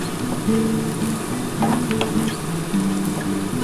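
Sliced onions fry in a pan while a fish curry is being cooked, giving a steady, close sizzle with faint crackles and a few stirring scrapes.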